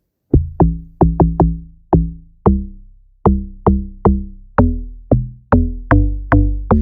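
An amapiano log drum doubled with an FM sub bass plays a bouncy syncopated pattern of about fifteen heavy, pitched, booming hits, each ringing briefly before the next, loud and alone.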